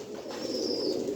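Kept domestic pigeons cooing, a soft, low, rolling coo that carries on throughout, close and fairly quiet, with faint background noise and no speech.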